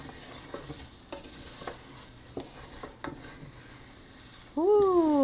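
A wooden spoon stirs orzo and garlic in a one-pan skillet, soft sizzling under a series of spaced scraping strokes, ending with a loud rising mechanical whine.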